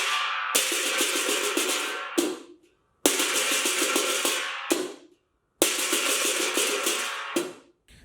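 Three long, bright, rushing bursts of lion dance drum rolls, each lasting about two seconds and ending abruptly, separated by brief pauses. Loud and close with no voices.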